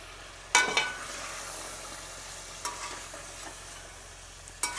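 Mutton frying with tomato paste in a pot for a white mutton handi, a constant hissing sizzle broken by a few sharp spatula scrapes and clatters, close and without talk.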